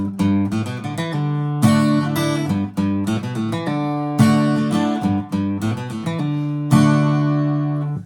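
Fast guitar riff of quick picked notes and ringing chords, played close and loud in a continuous rhythmic run.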